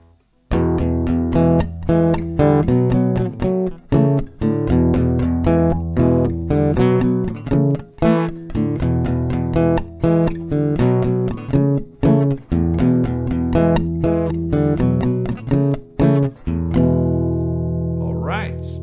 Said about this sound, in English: So this melody will sound something like this in standard tempo.